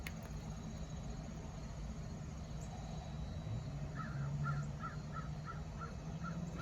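A series of crow caws repeats in a steady rhythm over constant low background rumble, moderately distant.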